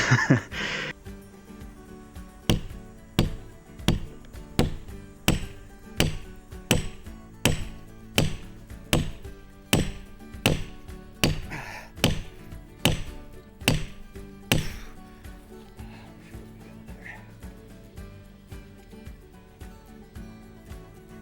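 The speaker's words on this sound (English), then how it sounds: "I got a wedge in here that I'm hammering home" Heavy metallic hammer blows drive a wedge into a tree trunk at a steady, regular pace, ringing sharply one after another, then slowing and fading toward the end.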